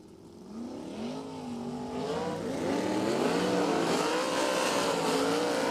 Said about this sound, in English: Aaron Reitzel now pulls away from the push truck.